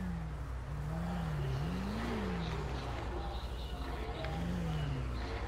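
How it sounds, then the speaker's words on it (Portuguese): Motorcycle with a modified twin-pipe exhaust in the GTA V video game revs and rumbles steadily, its engine pitch rising and falling in a close, continuous drone with no talking over it. "Caraca, o escapamento da moto"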